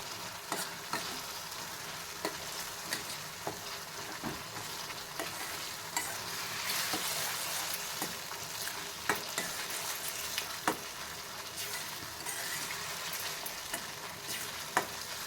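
Tomato chutney sizzles and fries quietly in a pan while a spoon stirs and scrapes it. Sharp clicks and taps of the utensil against the pan recur throughout over a steady hiss.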